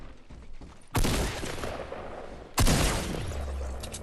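Two sharp bursts of gunfire in the Fortnite video game during a squad fight, each a loud sudden blast with a long noisy tail, the second followed by a low rumble.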